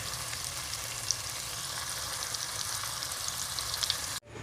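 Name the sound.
prawns frying in a pan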